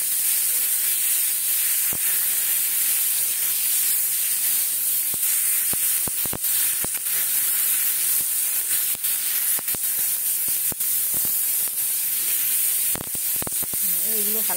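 Mushrooms for chilli mushroom fry in a pan with a steady, loud hiss and sizzle throughout, broken by occasional sharp crackles and spatters.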